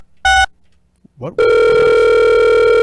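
A telephone ringing during a call: a short electronic ring tone, then a brief pause with faint noises, then a loud, steady, sustained ring tone that carries on to the end, close and clear.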